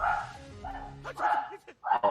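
A dog barks several times in short bursts with whimpering yips between, fairly close and loud, while a person briefly speaks.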